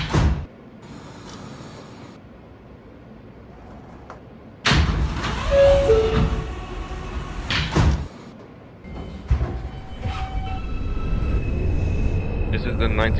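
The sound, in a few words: NYC subway R160A train doors closing, OpenBVE simulator game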